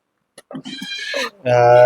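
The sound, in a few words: horse neighing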